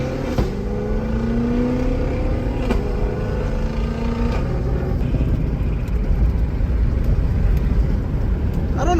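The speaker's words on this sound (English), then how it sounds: "I love the sound of that car so much." A cammed twin-turbo Ford GT500 rumbles loud and close as it cruises a Florida street, its deep lumpy idle mixed with rising engine notes and faint turbo whine.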